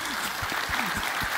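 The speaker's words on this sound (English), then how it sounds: "Let's give them a round of applause." An audience claps for a team whose vehicle won a track race, a dense and steady burst of applause with a few voice-like sounds mixed in.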